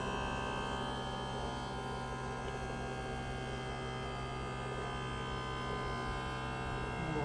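An Air Lift WirelessONE compressor fitted to a 2018 Ram 3500 runs continuously while inflating the air suspension, giving a steady droning hum and buzz throughout, close and unbroken.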